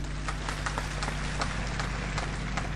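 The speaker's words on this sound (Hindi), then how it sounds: "आप लोगों ने तालियों से मेरी बात का स्वागत किया है" A crowd at a political rally applauds continuously, a thick, even roar of many hands clapping at a distance with no pauses, steady and moderately loud.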